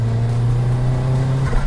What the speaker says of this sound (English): Just listen to this turbo.